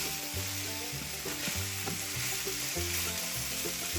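Vegetables for pepper steak frying on high heat in a pan give off a steady close sizzle, with low pulsing tones running underneath and nobody talking.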